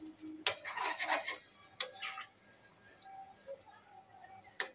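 Soft scrapes and clinks of a spoon in a pot as fish curry is gently stirred, with faint sloshing and quiet gaps between the movements.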